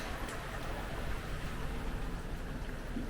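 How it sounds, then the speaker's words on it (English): Heavy rain pours down during a storm at Streaky Bay in South Australia, a steady, dense hiss of rainfall that runs unbroken and fairly faint throughout. "it's bloody started belting down rain"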